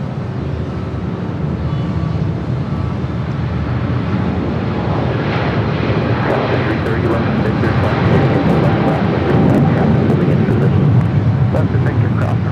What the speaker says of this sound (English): We got that 777 heading to Hong Kong.